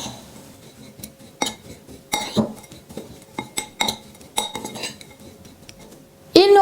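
Oat flakes, raisins and chocolate chips are mixed in a bowl, giving irregular clinks and scrapes of a utensil against the bowl, with a louder burst of clatter at the end.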